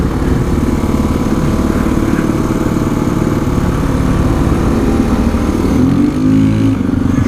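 A Honda XR400 dirt bike ridden along a trail, its single-cylinder engine droning loud and steady with pulsing revs and a brief throttle change near the end, heard from close by.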